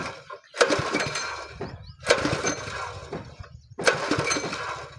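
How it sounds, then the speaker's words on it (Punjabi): A village motor engine, unused for several days, is cranked in three separate attempts, each a loud rough burst of clattering turnover that fades before the next try. "ਵਕਤ ਆ ਗਿਆ ਜੀ ਮੋਟਰ ਨੂੰ ਚਲਾਵਣ ਦਾ"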